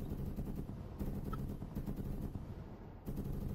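Bursts of gunfire from an APC's mounted gun, a BTR-80 firing tracers in the RHS mod of a military video game, with three or four loud repeated volleys that run together against dense low rumble and no speech.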